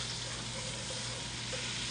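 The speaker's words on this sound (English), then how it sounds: "let me move these onions around." Quartered onions and garlic sizzling in a hot pot for pot roast, a soft continuous fry with faint stirring scrapes, close and steady.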